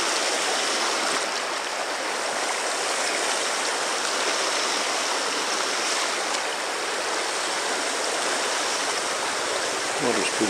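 A creek runs over rough ground beside a small clay bank, its steady broadband rush of flowing water continuous and fairly loud throughout, with a few faint splashes near the end.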